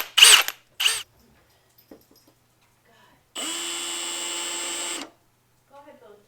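Milwaukee M18 Fuel 1/2-inch hammer drill driver 2904-20, which runs once in a single steady high-pitched whir lasting about a second and a half, preceded by short clunks and bursts of handling noise.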